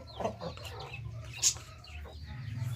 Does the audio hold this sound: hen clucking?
yes